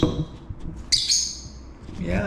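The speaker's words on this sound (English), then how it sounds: "So this hungry lost bird flew into our house." A hungry, lost bird that has flown indoors into a house gives a sharp, high squawk and a few chirps, close to the microphone, while a person talks softly around it.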